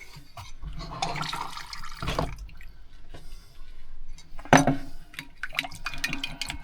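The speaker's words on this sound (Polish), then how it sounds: "dodajemy do niej odrobinę wody." Water splashes and trickles into a bowl of marinade in short bursts, with wet squishing and clinks between pours, close and fairly loud.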